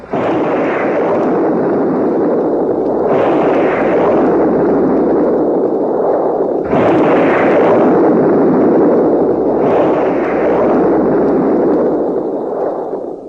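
Weapons fired from a submarine surfaced in the bleak Atlantic at dawn, staged for an audio drama: a heavy continuous roar punctuated by about four loud booming blasts at irregular intervals, with no voices.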